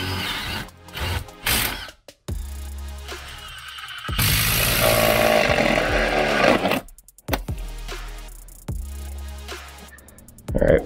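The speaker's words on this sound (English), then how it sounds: "we're gonna drill a hole right in the center of that" A power drill whirs loudly in bursts, starting and stopping, with a long sustained grinding stretch in the middle as it bores a hole through a house wall for a pellet stove vent.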